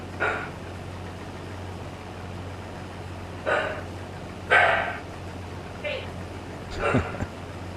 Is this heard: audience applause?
no